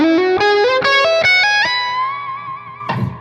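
A distorted electric guitar plays a layered lick up close, with rapid ascending picked notes that climb into a long held bent note, then a short noisy stab at the end, with no voices.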